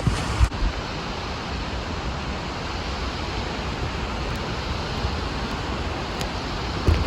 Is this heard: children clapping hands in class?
no